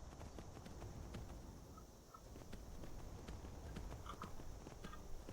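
Horse hooves clip-clopping in Skyrim, a steady trotting rhythm of close hoof falls over an outdoor ambience, quiet and continuous with no voices.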